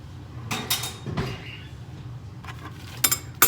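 Dishes and pans clatter and clink as they are put away in a home kitchen after cooking scrambled eggs, a few short bursts of knocking and clinking separated by quieter pauses.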